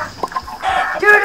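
Chicken clucking in the Minecraft video game, a few short close clucks in quick succession over about a second.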